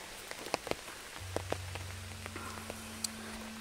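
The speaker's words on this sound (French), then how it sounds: "marcher sous la pluie comme ça quand il y a un parapluie, c'est juste génial" Rain patters on an umbrella in a Canadian forest: sparse, faint drop taps land at irregular intervals over a soft wash of rainfall, with a low steady hum entering partway through.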